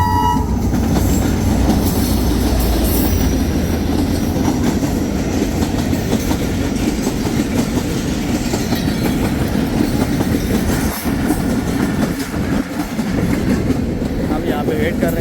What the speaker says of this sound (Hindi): हम आपको दिखाते हैं ट्रेन का गुजरने का। ये ट्रेन आ रही है।